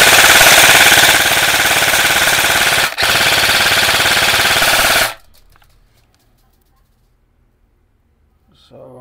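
A G&G SRS M-Lok airsoft AEG fires a loud, continuous full-auto burst for about five seconds with one brief hiccup midway, then stops, leaving near silence.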